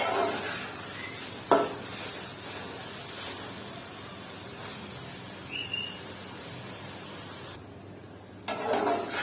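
Okra being cooked and stirred over high flame for bhindi salan, a steady sizzle broken by occasional spatula scrapes and knocks, dropping briefly near the end before resuming.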